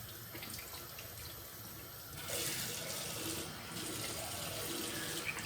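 A tap runs steadily into a sink while a straight razor is rinsed under it. The water flow strengthens partway through and continues close and even, with no talking.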